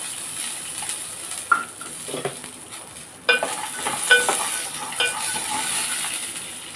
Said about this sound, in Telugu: ఇప్పుడు మనం చట్నీ వేపేసుకుందామండి ఉండి పల్లీలు వేసేస్తున్నాను ఒక కప్పు పల్లీలు తీసుకున్నాను